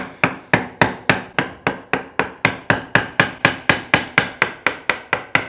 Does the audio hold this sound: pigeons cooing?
no